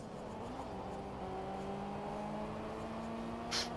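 A Ford Escort Cosworth race car in Shift 2 Unleashed hums with a low steady engine drone at modest volume, its pitch stepping slightly as gears change, ending in a brief bright burst of noise.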